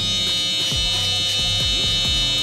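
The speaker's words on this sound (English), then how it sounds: "grab our shaver, and we're going to go ahead and take this down to the skin" An electric shaver buzzes steadily while taking hair down to the skin during a taper haircut, a close, constant high-pitched drone with small shifts in tone as the head moves across the scalp.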